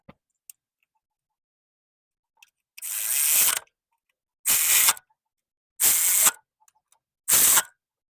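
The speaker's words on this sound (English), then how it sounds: "we secure those coil packs right down to the valve cover with a 10 millimeter on each one." Four separate bursts of fast ratcheting, each about half a second to a second long, come close and clear with silent gaps between them. A ratchet is snugging the 10 mm coil pack bolts on a Toyota engine's valve cover.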